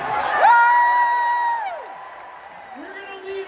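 A concert crowd at Jones Beach Theater on Long Island lets out a long rising whoop and loud cheer that holds, then fades, before another shout begins.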